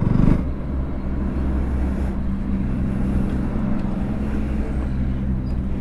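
A KTM RC 200 motorcycle cruising along a highway bypass, its engine producing a steady, loud low drone mixed with rushing wind noise that holds constant throughout, with no talking.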